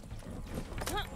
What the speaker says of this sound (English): We're getting on a horse.